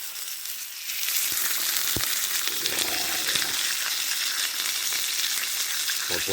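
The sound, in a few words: sirloin steak sizzling over a campfire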